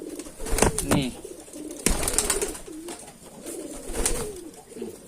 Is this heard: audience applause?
no